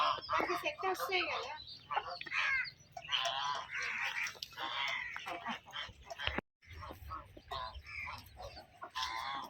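Chickens cluck near a yard where ducks are also kept, busy overlapping calls mixed with people talking, broken by one brief silence partway through.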